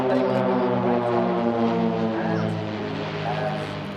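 Swiss Air Force PC-7 propeller trainer aircraft sweeping past in a formation flyby at an airshow, a loud steady droning hum with layered harmonics that shifts slightly in pitch, under a commentator's voice.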